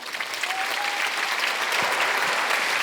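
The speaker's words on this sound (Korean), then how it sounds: "우리 하나님께 박수십시다." A church congregation at a Sunday worship service breaks into steady applause, dense and continuous clapping that fills the room and builds slightly louder toward the end.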